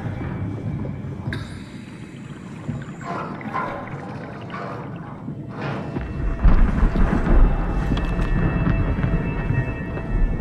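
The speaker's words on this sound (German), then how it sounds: "Ja, wieso gibt es hier auch die Blitze?" Thunderstorm ambience in the video game SOMA, a steady wash of rain with low rumbling thunder that swells louder in the second half, continuous and fairly close.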